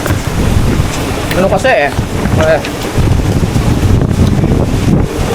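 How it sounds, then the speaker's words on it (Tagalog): Strong wind buffets the microphone outdoors near water at a flooded hut, a steady roaring rush with gusty bursts throughout, while people talk over it. "Lakas kasi hangin."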